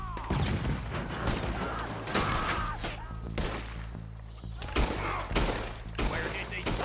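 Repeated rifle and revolver shots from a Red Dead Redemption 2 gunfight ring out in loud bursts every second or so, some overlapping into rapid volleys, with a voice faintly under the shooting.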